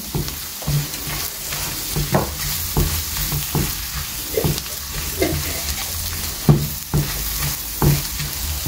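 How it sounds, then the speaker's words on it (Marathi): Spices and onions fry together for brinjal bharta, a continuous sizzle broken by repeated knocks and scrapes of a spoon pressing and mixing in the pan, close and steady with no voices. "हे सगळे मसाले न्ही ऑनियन्साचे बराबर बरें मिक्स करून घेया आनी फ्राय करून घेया"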